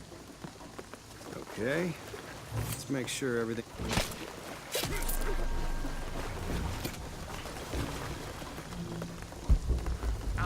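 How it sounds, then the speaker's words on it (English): Steady rain hisses and patters across a stormy jungle scene in Shadow of the Tomb Raider, with loud splashes and thuddy impacts mixed in, while a person speaks briefly over it. "the rain is gonna flood this"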